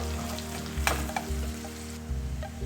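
Onions sizzle steadily in a pan for dal tadka, browning toward light brown, with a few sharper crackles and soft stirring scrapes over a constant frying hiss.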